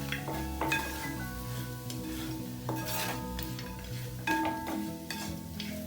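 A spoon stirs chicken stew with roasted red chilli, garlic and ginger in a pan, scraping and clinking against the metal in repeated strokes over a soft sizzle, close and fairly quiet, with no talking.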